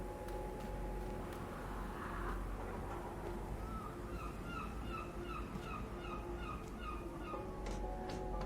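Birds in the video game Secret World Legends give a run of repeated gobbling, honking fowl-like calls over a steady ambient drone, fairly close and moderately loud, with no talking.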